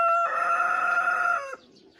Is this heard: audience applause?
no